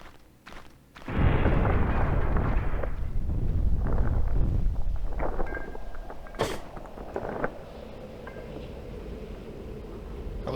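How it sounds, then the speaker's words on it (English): A bomb detonates in the video game Alisa, a sudden loud booming blast with a long rumbling tail, followed by scattered creaks and fainter mechanical clanks as the noise fades. "That was one hell of a bomb."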